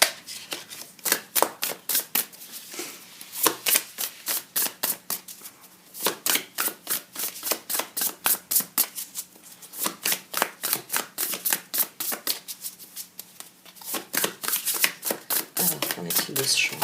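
Tarot cards gathered from a pile and shuffled, a long run of quick, crisp riffling flicks in bursts with brief pauses, close and clear, while a person talks quietly underneath.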